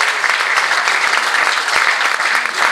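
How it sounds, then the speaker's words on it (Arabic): An audience gives sustained, dense applause for the young organizers of a Tunisian community gathering in Ezzouhour, with steady clapping throughout and no break. "تصفيق على الشباب المنظم دين الزهور."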